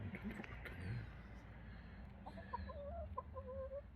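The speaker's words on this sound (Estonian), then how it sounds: "See on siukene naljakas kana." Hens on a small farm clucking and murmuring close by, soft broken chatter at first, then clearer rising and falling clucks in the second half over a low background rumble.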